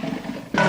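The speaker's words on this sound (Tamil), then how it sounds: "ஐயோ, சிங்கத்தின் கர்ஜனை போல் தெரிகிறது." A lion roars once, a short deep burst that swells abruptly near the end of a brief moment of low rumbling, fairly loud and heard alone.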